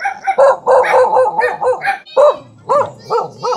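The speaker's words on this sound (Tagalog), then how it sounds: "May aso." A dog barks loudly and close by in a rapid series of about ten sharp barks, with a short pause before the last few.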